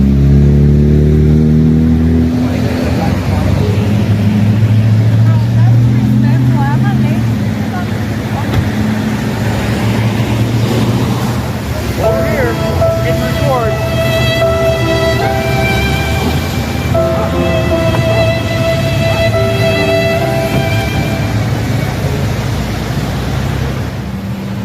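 Car pulling away at a roadside stop with police officers present, engine noise rising then fading into the distance, with people talking and background traffic throughout.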